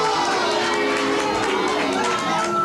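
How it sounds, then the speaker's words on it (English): Studio audience on a 1983 talk show, Hot Seat with Wally George, applauding in a steady, dense wash of clapping and crowd noise that fills the whole moment without a break. "Rachel, why are you applauding yourself there?"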